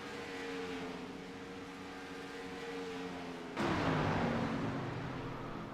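Race cars in the iRacing sim roar past one after another, a steady engine drone that jumps in loudness and pitch as the pack sweeps by, with no voices.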